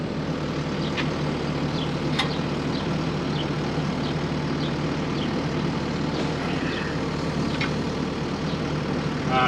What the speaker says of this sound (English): We use a Bobcat.